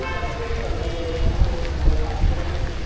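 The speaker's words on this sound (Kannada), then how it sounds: "ಫುಲ್ ಮಳೆ." Heavy rain during a motorbike ride, a dense steady wash of rain with low rumbling wind and engine noise underneath, loud and continuous throughout.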